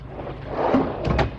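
Drawer-style refrigerator in a boat galley sliding open or shut, a soft rolling slide ending in a couple of light knocks, close and fairly quiet.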